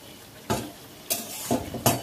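Fried mutton in oil is stirred and reheated in a wok, with several scraping strokes of a spatula against the pan over a faint, steady sizzle.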